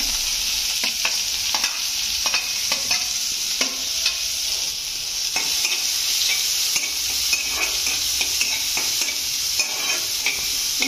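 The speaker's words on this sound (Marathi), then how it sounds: "थोडा वेळ कांद्याला परतून द्यायचं" Onion fries in hot oil with mustard seeds, cumin and curry leaves, making a continuous bright sizzle up close, punctuated by frequent ladle taps and scraping stirs, with no talking.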